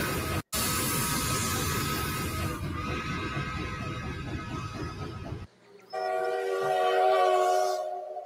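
A steam locomotive whistle sounds over loud rumbling rail noise, then a second higher, steady whistle blast rings out clearly near the end.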